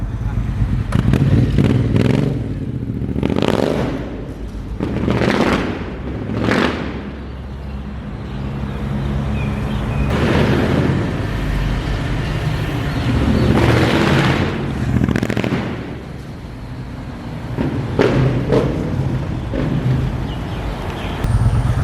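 A Triumph motorcycle fitted with a Lowell full system exhaust, out on a riding test: deep engine roar swelling and fading in repeated surges of throttle, loud and close, with someone talking over parts of it.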